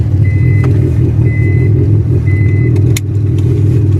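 A Honda Civic EF engine idles steadily after starting, a loud, even low rumble with a faint intermittent high beep chiming over it.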